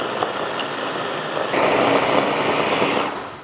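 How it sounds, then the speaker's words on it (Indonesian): An Idea Life electric chopper runs loudly and close, grinding ingredients with a continuous motor whir that swells partway through as the blades bite harder, then eases slightly near the end. "menggunakan chopper dari Idea Life. Ini bahannya akan kita haluskan dulu."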